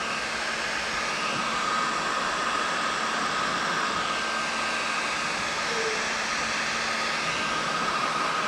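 A heat gun blows steadily at close range while warming the edge of clear paint protection film on a vehicle's front fender, making a constant, dense airy roar with no pauses throughout.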